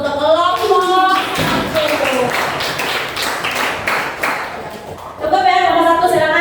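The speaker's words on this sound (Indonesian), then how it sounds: "Kasih aplaus untuk kelompok." Group applause in a classroom during a math lesson, a burst of clapping that rises between the teacher's spoken lines and holds steady for several seconds before talk resumes.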